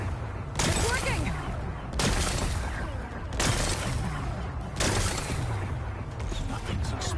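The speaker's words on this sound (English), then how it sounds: "Gotta blast away some rocks, so I can expose the power cell." Weapon fire blasting rocks in the video game Horizon Forbidden West, four separate loud bursting impacts spaced about a second and a half apart, each followed by crumbling debris over a low rumbling background.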